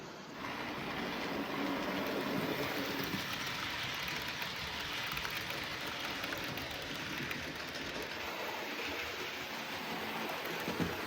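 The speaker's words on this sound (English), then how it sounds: "Just giving some of these trains a little bit of a New Year leg stretch." Model trains rumble and whir continuously along the track, a steady close mechanical hum with faint clicking and no talking.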